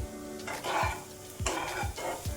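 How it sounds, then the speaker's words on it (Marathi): Ground spice paste is stirred into potatoes in a pan for a spicy potato thecha, with soft sizzling and a few low scraping strokes of the spoon. "आता हे बटाट्यामध्ये मिक्स करून घेऊया"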